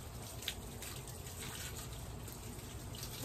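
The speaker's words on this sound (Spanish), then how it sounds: "aquí ando regando los árboles" A garden hose sprays water onto trees outdoors, a steady hissing, splashing flow with a few brief spatters, moderately close and with no talking.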